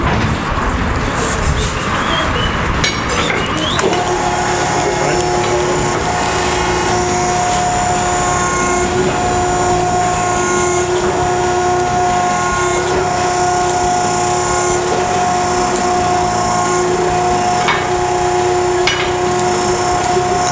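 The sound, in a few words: press being used to flatten a thick leaf spring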